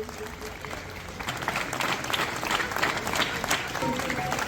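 Sustained applause from an audience at a community award ceremony honouring high-scoring students, dense even clapping continuing throughout with some voices mixed in.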